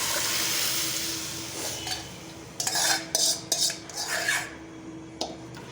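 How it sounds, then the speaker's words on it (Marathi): Low simmering hiss of lentils in a pot, then a few close metallic spoon scrapes and clinks against the pot in the second half, no speech. "डाळ घातल्यानंतर थोडंसं वरणाला मी हलवून घेतलेलं आहे"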